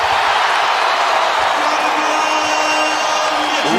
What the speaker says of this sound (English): Reaching back, and this crowd explodes